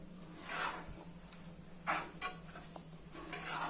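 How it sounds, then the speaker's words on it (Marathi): A sweet mixture of peanuts and sugar is stirred slowly in a pan over a low flame, making quiet scrapes and light clinks of the spoon against the pan at an uneven pace. "हळूवार असं मिक्स करायचं पूर्णपणे चांगलं मंद गॅसवर हे करायचं"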